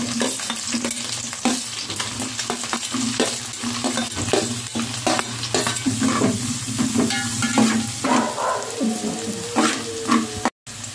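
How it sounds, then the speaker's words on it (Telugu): Green chillies and onions fry in hot oil in a pan for chicken fried rice, a steady loud sizzle broken by frequent stirring scrapes and clinks, with no one talking. "వేరే ప్లేట్లోకి మళ్ళీ కొంచెం ఆయిల్ వేసుకోవాలి. పచ్చిమిరపకాయలు, ఉల్లిపాయలు,"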